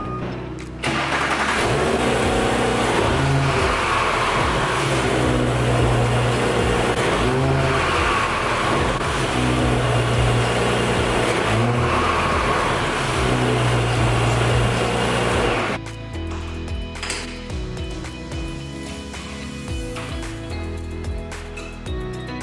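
A stock 2018 Audi S4 engine starts and revs steadily at close range, loud and sustained for a long stretch before cutting back to a quieter idle.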